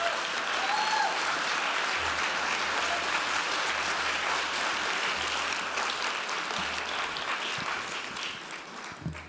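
A conference audience at the 2019 Conference on Jews and Conservatism applauds steadily to welcome speaker Victor Davis Hanson, a full, sustained clapping that fades slightly toward the end.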